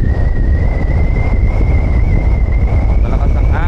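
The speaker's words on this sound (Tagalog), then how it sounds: "Malakas ang hangin." Strong wind buffeting the microphone on a Fortress 160 motorcycle ride, a dense continuous roar with a steady whining engine tone beneath it.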